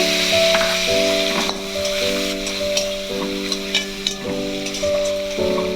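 Chopped onions and nigella seeds sizzle steadily in hot oil in a pan, a continuous close frying crackle with a sustained droning tone running underneath throughout.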